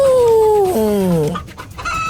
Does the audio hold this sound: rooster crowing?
yes